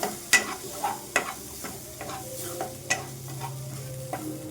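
A spoon stirs raw green tomato bhaji with crushed peanuts in a frying pan, with sharp intermittent scrapes and clinks over a steady low sizzle, close and without talk.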